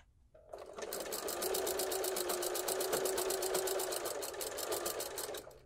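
A sewing machine stitches fabric for an envelope-closure pillow, with a fast, even mechanical rattle running close and steady for about five seconds.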